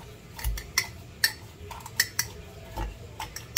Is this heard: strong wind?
no